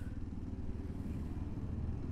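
A 2020 Kawasaki KLX230 dual-sport motorcycle engine gives a steady low rumble at a constant pace, near and moderately loud, with no speech over it.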